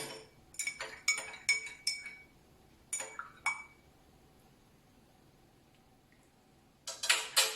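A spoon stirs food dye into water in drinking glasses, making a quick run of light glassy clinks. A quiet pause follows, then a short burst of rapid clinking at the end.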